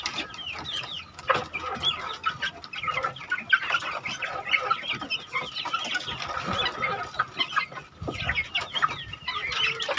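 Neighbour's free-range village chickens cluck and chatter on a smallholding, several birds close by in an overlapping, steady stream of clucks with no talk.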